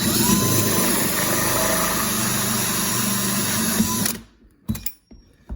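A loud, steady power drill whirs continuously for about four seconds while boring a vent hole through a box, then stops abruptly, followed by a few short knocks and clatters.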